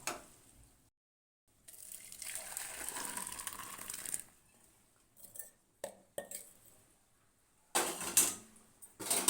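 Pepper rasam poured from the pan after it froths, with a soft liquid pour and light clinks of a pot, quiet and close, with no talk.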